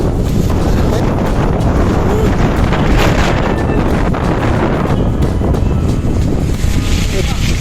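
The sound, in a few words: strong wind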